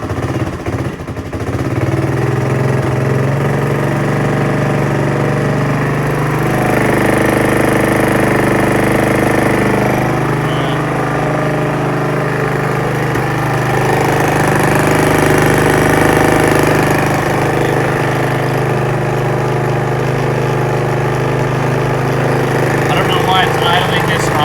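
A 1984 Honda ATC 200M three-wheeler engine runs without throttle in a loud, steady, close-up idle that holds for the whole stretch.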